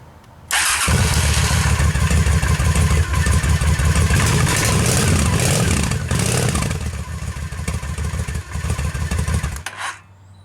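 A motorcycle's electric starter cranks and the engine catches, giving a loud, continuous mechanical roar that carries on for several seconds before cutting off abruptly. The bike is in neutral during a battery cranking-amps test.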